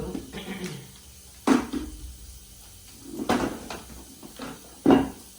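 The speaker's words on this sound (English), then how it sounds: "I am gonna grab a bowl, and I think this one will do here." Kitchen cupboard opened and closed while a bowl is taken out, while smoked salmon stuffed with shrimp, crab, cheese and spinach is being made: three sharp wooden knocks and clatters, close and fairly loud, with quieter handling noises between.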